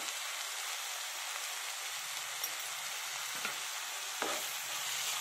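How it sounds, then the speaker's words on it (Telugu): A drumstick masala curry with tomato, turmeric and chili powder sizzles and fries steadily in a pan, with soft stirring scrapes and a few brief clicks of the utensil, fairly quiet and close. "ఇప్పుడు బాగా కలిపేసుకుని టమాటా మెత్తగా అయ్యేంత వరకు బాగా మగ్గించుకోవాలి."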